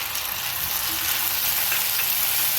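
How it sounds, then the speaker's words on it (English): Chopped tomatoes hit a pan of browned frying onions, setting off a loud, dense, continuous sizzle that fills every moment with no voices over it. "So now we can add the tomatoes. These were the chopped tomatoes."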